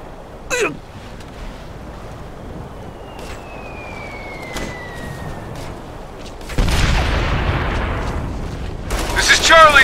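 Scattered shots and booms in a military firefight in Operation Flashpoint: Red River, sharp cracks early, then a denser rising barrage of gunfire and blasts toward the end, with a low battle rumble throughout.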